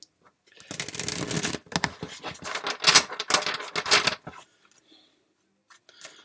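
A tarot deck being riffled and shuffled in several quick bursts of papery flutter and snapping, close by, followed by quieter taps at the end.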